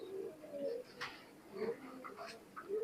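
An imported Oman Teddy pigeon coos in low, rolling phrases, several repeated bursts at close range, fairly quiet, with faint background noise and brief scuffing between calls.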